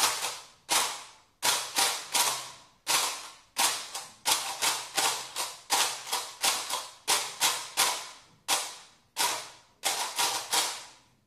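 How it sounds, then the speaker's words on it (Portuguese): A homemade raspa-raspa scraper makes a long run of sharp, close scraping rasps, one after another in a quick uneven rhythm, each a bright burst that trails off, with no voices over them. "esse é o nosso objeto sonoro chamado raspa-raspa"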